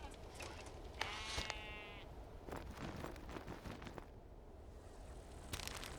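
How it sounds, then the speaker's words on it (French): Goats bleat in the video game Cairn, a wavering bleat rising over a steady ambient game backdrop, followed by scattered clicks and soft effects. "Les chèvres."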